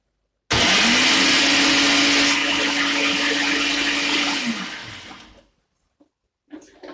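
A glass blender runs at its first pulse speed while blending banga soup ingredients, a loud whirring roar that starts abruptly, holds steady for about five seconds, then winds down and cuts off, with a couple of faint knocks afterward.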